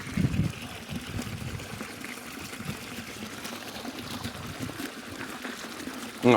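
Water pours steadily from the outlet of a solar water pump running under cloud cover with reduced flow, a soft continuous splashing trickle that stays fairly quiet throughout.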